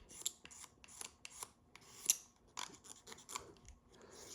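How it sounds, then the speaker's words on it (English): Metal being scraped by hand on an old front-engine dragster under restoration, a series of short rasping, scratchy strokes repeated irregularly at close range, with no talking. "I'll try not to gouge the metal, just drag it across and scrape it"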